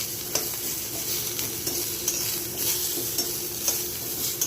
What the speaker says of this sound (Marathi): यामध्ये घालूया कांदा, तो छान परतून घेऊया. छान गोल्डन ब्राऊन होईपर्यंत